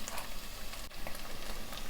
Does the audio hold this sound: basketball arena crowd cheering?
no